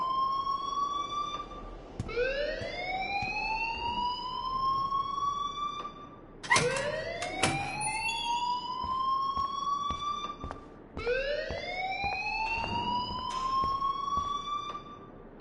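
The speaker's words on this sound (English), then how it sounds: "please turn off that alarm since that's your job" A school alarm in the video game Life is Strange sounds a rising, siren-like wail that repeats three times, each cycle climbing and sustaining, loud and continuous with a faint background hum.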